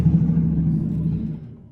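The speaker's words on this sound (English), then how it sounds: "Sorry guys, loud truck." A loud truck passing outside a room, a deep low rumble that holds steady and then slowly fades away.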